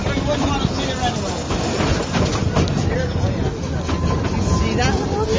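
Halloween train ride at the BC Forest Discovery Centre, a steady loud rumble of the moving train cars with continuous wheel and track noise and a busy background of riders.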